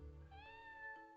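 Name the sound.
cat meow from a button in the video game Everdeep Aurora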